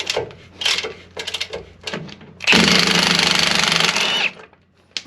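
Shock bolts come off a Chevy Silverado under a power tool. A few short rattling bursts lead into one sustained, loud, close run of about two seconds before it stops.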